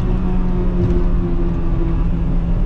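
Steady, loud engine drone and road rumble from inside an older Acura Integra Type R on the move, a constant cabin roar with no talking.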